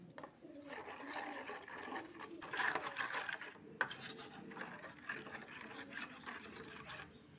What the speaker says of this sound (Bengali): এবার এটাকে ভালো করে মিশিয়ে নিচ্ছি